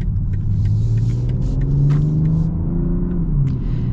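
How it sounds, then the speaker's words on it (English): A 2022 BMW M340i xDrive in sport mode drives under a steady engine hum with rising and falling pitch as it shifts down, heard from inside the cabin with a continuous low rumble and no talking. "It automatically downshifts for me"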